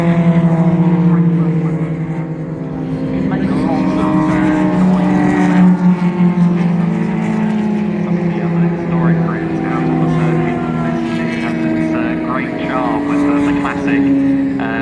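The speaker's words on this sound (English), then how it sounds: "F3 engine notes echoing throughout the course of many of these cars" Formula 3 racing car engines whine in sustained high-pitched tones that shift in pitch as cars pass, with commentary spoken over them, at a classic race meeting at Silverstone.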